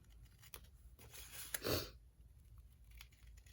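Scissors snip through a serial number label on a plastic storage container, a soft cluster of cuts peaking briefly in the middle, close and fairly quiet with no talk.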